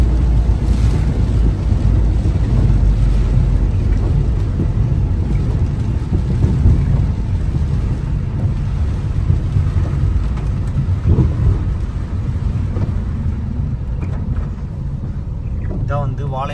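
Steady rain hisses over a car driving on a rainy road near the Walayar toll plaza between Coimbatore and Kerala, a continuous broadband wash with low road rumble throughout and no clear talk.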